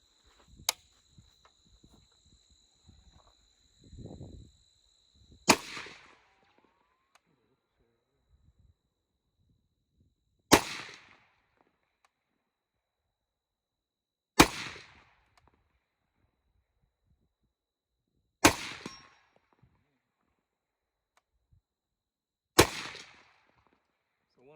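A Springfield M1A Tanker rifle is fired offhand outdoors: five sharp, loud cracks spaced roughly four seconds apart, each with a short decaying tail, with quiet gaps between.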